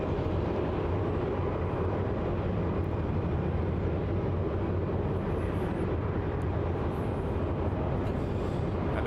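A Qantas Boeing 787 airliner at Melbourne Airport roars close by, its engine noise steady, loud and broadband throughout, with no voices heard.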